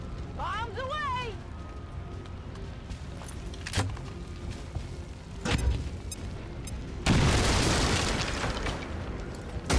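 A video game explosion in XCOM, a bomb blast that lands as a broad burst of noise midway and roars on through the end, with sharper pops and someone talking before it.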